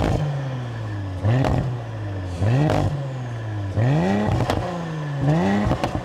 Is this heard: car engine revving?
yes